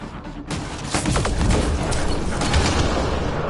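Video game gunfire crackles in a dense, rapid volley of overlapping shots that starts after a quiet half second and keeps going steadily to the end.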